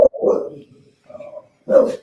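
An Irish pit bull gives a few close, sharp barks spaced apart, with a short spoken word near the start.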